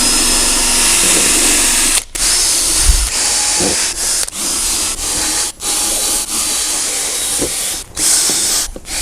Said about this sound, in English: the quickest way to do that is with a drill brush